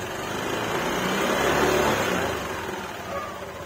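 A Yamaha NMAX V2 scooter engine runs steadily at close range, its light hum swelling slightly midway as if revved, then easing back, with no talk over it.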